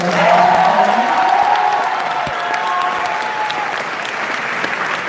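A graduation crowd applauds and cheers for student athletes with a sustained, even wash of loud clapping, with faint cheers and voices mixed in throughout.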